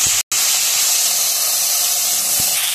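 Cut potatoes going into hot oil with curry leaves and black cumin seeds, a loud continuous hissing sizzle close by with a brief break near the start, no talking.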